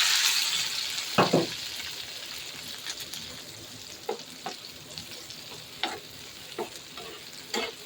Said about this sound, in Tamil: கொஞ்சமாக எண்ணெய் போட்டுட்டு வெங்காயம் கேப்சிகத்தையும் சேர்த்துக்கலாம்.